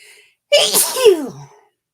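A single loud sneeze bursts out after a brief quiet moment, close to the listener, with a sharp breathy onset and a trailing voiced tail.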